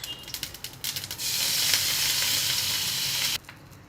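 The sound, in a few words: mustard seeds and curry leaves sizzling in hot oil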